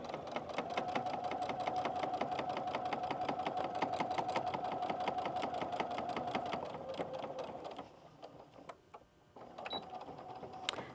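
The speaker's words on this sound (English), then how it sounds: "now I've sewn up to that dot" A sewing machine stitches fabric while making mitered corners on a casserole holder. It runs in a steady, fast, close-up whir for most of the clip, then slows and stops briefly before starting up again.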